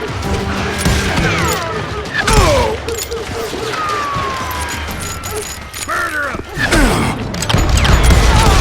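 Rapid bursts of gunfire and ricochets in the Western shooter Call of Juarez: Gunslinger, loud and continuous across the clip, with crashing impacts and a shouted voice mixed into the battle.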